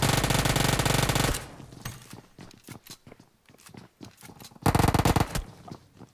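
Covering fire in a battle-royale match, an opening sustained burst of automatic gunfire, then scattered single shots and footsteps-like thumps, before another heavy loud volley near the end.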